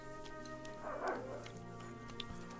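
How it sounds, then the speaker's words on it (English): A dog barks and yips faintly in the distance, a single short burst over a steady background hum. "Are there any stray dogs around here?"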